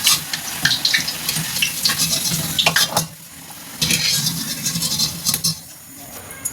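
Potatoes deep-frying in oil in a pan for chicken biryani, with steady sizzling and crackle broken by loud scraping stirs and clinks of a utensil against the pan, fairly close.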